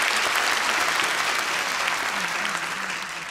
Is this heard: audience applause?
yes